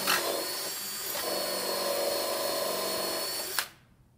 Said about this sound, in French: je vais percer mon trou